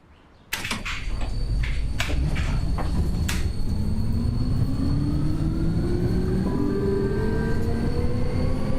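A tram in City Transport Simulator starts with a sudden jolt, then rolls on with steady wheel clacking over rail joints, a constant rumbling hum and rising motor whine, heard up close with no talk.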